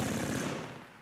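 Continuous machine-gun fire in the Armoured Commander II tank game, a thick rapid rattle at steady volume that tapers slightly toward the end, with nobody talking over it.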